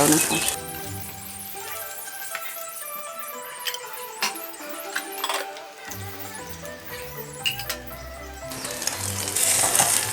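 Oil sizzles steadily as an egg fries in a Teflon pan, with occasional clinks of a utensil against the pan under a voice talking.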